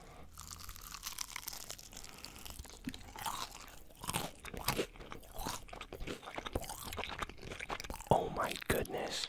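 Crunchy KFC fried chicken is bitten and chewed right at the microphone, loud crackling crunches and wet chewing repeating irregularly, with faint whispering now and then.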